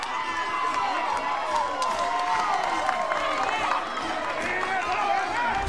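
Crowd cheering and shouting around home plate at a college softball game at Joanne Graff Field, Florida State vs Auburn, steady and continuous throughout, with a busy mix of many voices.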